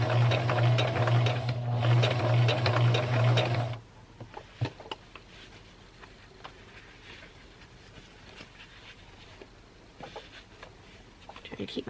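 Sewing machine runs steadily for about four seconds, a loud, even whirring stitch through fabric for a fall scarecrow gnome, then stops, leaving faint handling clicks and quiet room noise.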